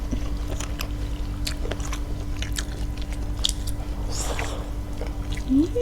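Someone bites and chews crunchy fried giant squid in sambal, the crisp crunches and wet chewing sounding close to the mouth over a constant low hum.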